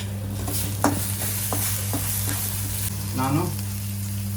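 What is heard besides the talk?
capsicum frying and sizzling in a pan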